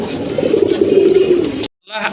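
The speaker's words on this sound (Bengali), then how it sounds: "এটা কিন্তু লাল চুল্লি কবুতর।" Red Chulli pigeons coo loudly and close up in a continuous throaty burst, with faint chirps above, cut off by a short silence before a final bit of noise.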